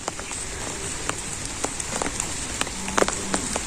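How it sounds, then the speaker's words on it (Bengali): Steady rain patters on a surface close by, with scattered louder drops landing irregularly throughout. "বৃষ্টি তো দেখা যায় থামি না"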